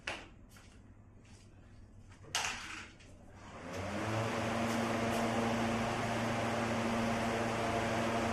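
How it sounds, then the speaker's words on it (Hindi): An air cooler starts up indoors with a few clicks, then settles into a loud, steady whirring hum that fills the rest of the clip without talk. "थोड़ा कूलर चला ही देते हैं आज"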